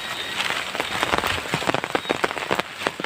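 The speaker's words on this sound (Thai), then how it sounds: "ฝนตก" Steady rain pours down outdoors beside a waterside path where fish traps are set, a dense close patter of drops with sharper splashes scattered throughout, no voices.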